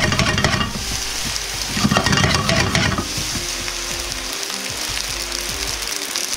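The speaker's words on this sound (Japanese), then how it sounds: "鍋を浮かさずに上下に動かしながら揺すり炒めます。" Black fried rice sizzling loudly in a wok as it is shaken up and down without lifting, with steady frying crackle and rhythmic scraping and tossing, close and alone without voices.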